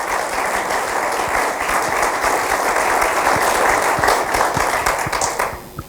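Dense, sustained audience applause at a conference introduction, loud and steady for about five seconds before tapering off near the end.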